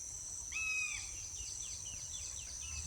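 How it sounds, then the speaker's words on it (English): A crested hawk-eagle gives a clear, sliding whistled call followed by a string of shorter, fainter repeated notes, set against a constant high-pitched drone of insects. "it is communicating to another hawk eagle"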